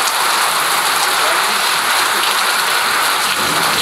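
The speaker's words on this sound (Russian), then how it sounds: "И только закончили бурить, начался дождь." Heavy, steady rain pours loudly and evenly throughout, a dense hiss with no pauses.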